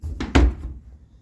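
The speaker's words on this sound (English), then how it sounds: "Door's closing on me." A closet door in a finished flip house swings shut with two quick close thuds, the second heavier, and a short fading rattle follows in a quiet room.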